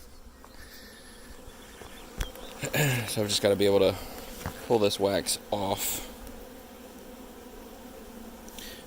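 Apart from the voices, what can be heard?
honeybees buzzing at an opened hive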